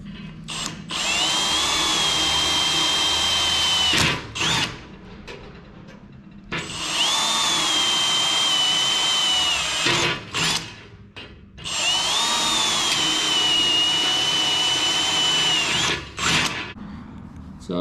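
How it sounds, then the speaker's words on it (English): A power drill bores holes into the thin metal body of a small homemade rocket stove, sounding as three loud, sustained whining bursts separated by short pauses and clicks. "drill some holes in this thing for some air to come through"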